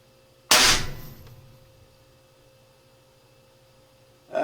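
A single sharp, loud report from a Hercules Bully .457 big-bore air rifle, fired close by, with a decaying ring that trails off over a second before a second burst begins at the very end, over a faint steady hum.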